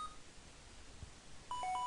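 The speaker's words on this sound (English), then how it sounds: "Extransiever is ringing" A short electronic ringing tone from an Xtransceiver in the Pokemon Black & White video game, a few bright beeping notes coming in near the end over a quiet game background.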